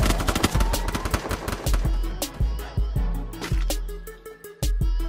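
Rapid gunfire from the Free Fire mobile battle game, a dense stream of close, loud shots in quick bursts with short gaps, growing sparser toward the end, with no talking over it.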